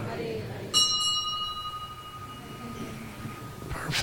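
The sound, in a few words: bell ringing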